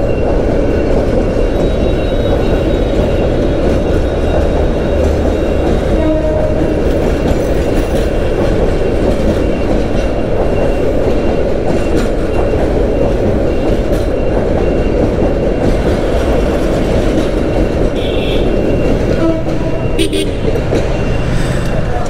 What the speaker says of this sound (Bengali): এই যে ট্রেন আসতেছে দেখেন এটা সম্ভবত কমলাপুর ঢুকতেছে